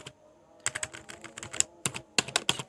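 Typing on a computer keyboard to enter text into Google Translate. Keys clatter in quick irregular bursts with brief pauses between them, close and moderately quiet, with no voices.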